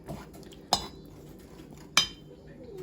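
Melting chocolate stirred in a double boiler: two light metallic clinks of a utensil against the pot, spaced over a quiet kitchen background.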